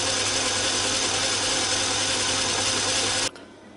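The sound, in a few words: Myford ML7 lathe running, lead screw cleaned with toothbrush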